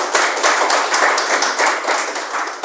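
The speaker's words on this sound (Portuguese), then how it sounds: "Palmas para Jesus, em nome do Senhor" A church congregation clapping in unison, loud and close, with a steady rhythmic beat of many hands throughout.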